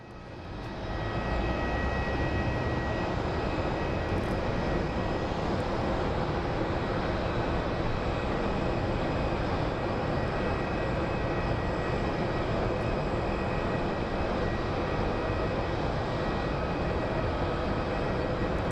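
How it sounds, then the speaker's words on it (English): An American Airlines Boeing 737 arrives at Phoenix Sky Harbor airport, its jet engines giving a loud, steady roar that swells in within the first second and holds constant, with no voices over it. "American Airlines 737."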